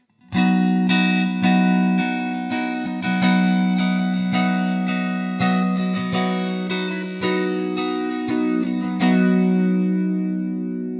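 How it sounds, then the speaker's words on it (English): Sustained electric guitar chords ringing out through an Ibanez CF-7 Chorus/Flanger pedal in classic flanger mode, a sweeping, whooshing effect, strummed every second or so, no voices. "Let's hear what a classic flanger sounds like."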